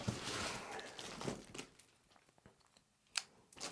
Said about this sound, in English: Let me cut this wrap off.